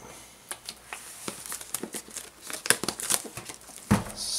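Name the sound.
plastic wrap being slid off a MacBook Air box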